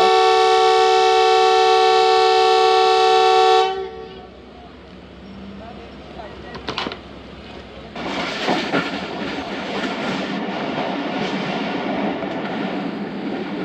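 A passenger train hauled by a locomotive runs past Lahore Cantt: a loud sustained multi-tone horn blast cuts off, then quieter rolling rumble with a brief clank before steady, louder wheel-and-carriage running noise returns.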